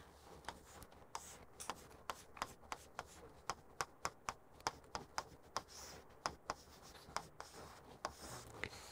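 Writing on a board during a lecture gives a quiet series of irregular taps and short scratchy strokes, close but faint, with no talking over it.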